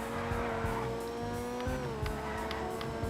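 Grotti Carbonizzare sports car accelerating on a downhill course in GTA 5, its engine note rising steadily and fairly loud throughout, with faint tire noise and no speech.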